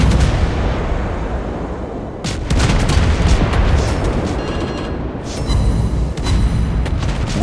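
Naval cannon fire from a Dutch Tier 10 cruiser Prins van Oranje in the video game World of Wars, heavy booming salvos over a continuous loud rumble, with sharp blasts near two and five seconds and no talk.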